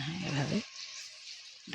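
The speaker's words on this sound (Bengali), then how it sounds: "এভাবে আমি সব বড়াগুলো ভেজে নিচ্ছি।" Chana dal fritters (bara) fry in hot oil for a Bengali sweet, giving a steady close sizzling hiss; a voice briefly speaks over the sizzle at the start.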